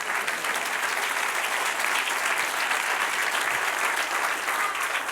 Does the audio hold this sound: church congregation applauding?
yes